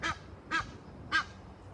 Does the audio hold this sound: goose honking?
yes